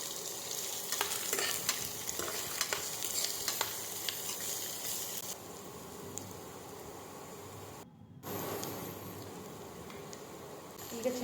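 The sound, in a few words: onions frying in a pan with curry leaves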